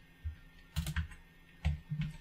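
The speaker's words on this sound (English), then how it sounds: "If I can type" Keys clatter on a computer keyboard in a few quick, close clusters of taps separated by short pauses, with no talk.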